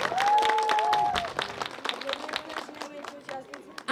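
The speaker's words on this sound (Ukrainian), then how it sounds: "Аплодуємо Мірі." An audience claps for Mira at a Mother's Day celebration, a light patter of hands rising briefly under a voice speaking over it, fairly faint and short.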